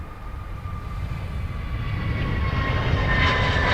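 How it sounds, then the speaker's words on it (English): A Ryanair jet bound for Stockholm at Dublin Airport produces a steady, broad engine roar that slowly swells louder across the few seconds, with a faint whine riding above it and no voices. "The Ryanair to Stockholm was in the background."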